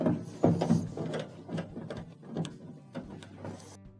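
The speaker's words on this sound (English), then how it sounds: "we have 2 Phillips screws that have to be taken out" Phillips screws being backed out of a dryer top with a ratcheting screwdriver, a close series of uneven clicking, ratcheting bursts that come and go.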